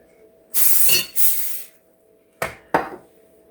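Two long hissing sprays of cooking oil spray followed by two shorter bursts, close by with no talking.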